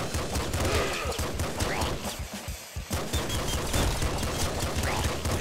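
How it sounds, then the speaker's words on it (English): Golden machine gun in the Nuclear Throne video game firing as a dense, continuous rattle of rapid shots that fills the whole stretch, loud and close, with a brief dip in the middle. "Golden machine gun."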